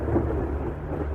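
Heavy rain pours steadily at night while deep thunder rumbles through it, a loud, continuous wash with no voices.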